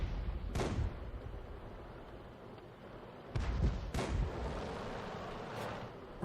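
In World of Tanks, a 105 leFH18B2 artillery gun fires, a distant booming report followed by a rumbling echo, then further muffled thumps, all fairly faint against a low background.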